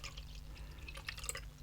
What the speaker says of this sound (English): So I'm guessing you really do put the water inside this water tank.